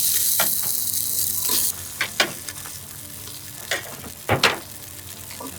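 Beef bones and meat dropped into a large, still-hot stock pot: an opening hiss cuts off, then several separate knocks and clunks of pieces landing, with quieter gaps between them.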